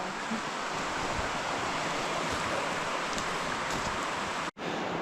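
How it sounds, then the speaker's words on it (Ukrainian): A swollen, flooded river rushes steadily along its banks in early snowy weather, a dense continuous roar of water with a brief dropout near the end, no voices. "а ти диви, як річка яка повноводна, да, розлилася"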